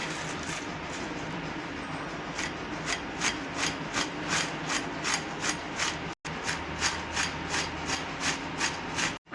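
Crispy potato finger chips being tossed with red chili powder and salt in a bowl: a steady run of rhythmic scraping, rubbing strokes, close and fairly loud, with no voices.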